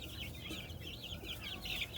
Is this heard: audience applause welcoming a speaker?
no